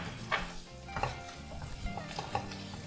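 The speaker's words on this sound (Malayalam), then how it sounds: "നല്ല പോലെ ഒന്ന് വഴറ്റി കൊടുക്കാം." Chicken masala with garam masala sizzles in a kadhai while a spoon stirs it, giving a steady close frying hiss with several scraping strokes against the pan.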